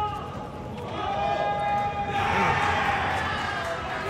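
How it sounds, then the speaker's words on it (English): A crowd at a Super Smash Bros. tournament, a Wave A winners semi-final match, roars in a sustained wash of cheering that swells midway and holds, with a commentator's voice running over it. "Got the crowd going wild on the other side."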